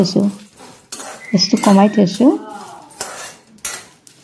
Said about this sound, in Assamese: এনেই ভাজি আছোঁ কেৰাহীখনত অলপ ৰঙা পৰালৈকে